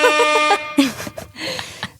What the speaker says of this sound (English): Never too much air horn.